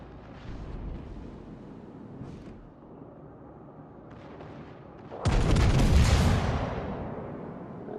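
Torpedoes launched in the naval combat game World of Warships: Legends: a sudden loud whooshing burst midway, swelling then fading, after a stretch of rumbling background battle noise with booming gunfire.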